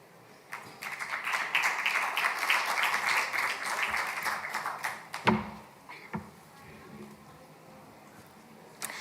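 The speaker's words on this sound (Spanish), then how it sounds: "Uma salva de palmas, por favor" An audience applauds at an assembly of local and regional leaders, with dense clapping building for several seconds, then thinning to a few scattered claps and a couple of sharp knocks before quiet.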